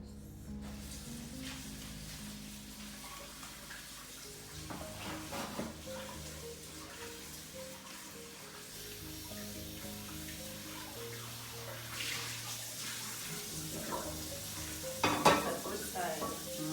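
Tap water runs steadily into a frying pan as it is rinsed at a kitchen sink, with clinks and scrapes of the pan, a brief louder splash near the end, and no talking.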